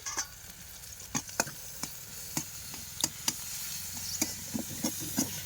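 Oil goes into leafy greens frying in a pan over a wood fire, giving a close, steady sizzling hiss broken by scattered sharp stirring clicks and taps. Nobody talks.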